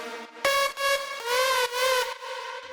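Synthesizer lead stack patch for a 90s dance remix, bright buzzy sustained notes with a slight wobble, changing pitch a few times in a short melodic phrase, loud and alone.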